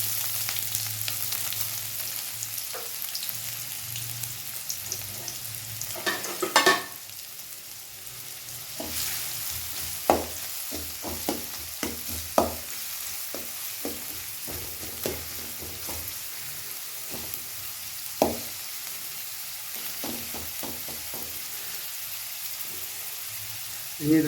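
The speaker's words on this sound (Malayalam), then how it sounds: "ചൂടായ എണ്ണയിലേക്ക് നമുക്ക് കുനുകുനാന്ന് അരിഞ്ഞ് വെച്ച ഉള്ളി ഇട്ട് കൊടുക്കാം." Finely chopped onions sizzling in hot oil for veg noodles, a steady soft frying hiss broken by repeated sharp scrapes and knocks of stirring in the pan, fairly close.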